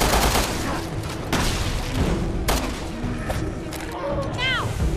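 Gunfire from Resident Evil Revelations 2 gameplay, a few sharp shots amid game sounds and rumbling, with a voice speaking over parts of it.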